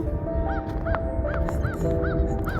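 A goose honks again and again in a regular run of short nasal calls, five or six in under three seconds, set against a rumbling, busy outdoor background in snowy New York City.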